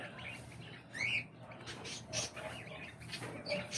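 Caged pet birds give short, scattered chirps and squeaks at moderate distance over a steady low background hum, with one brighter call standing out near the start.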